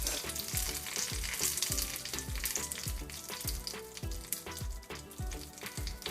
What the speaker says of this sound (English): Splash the oil with the fresh curry leaves.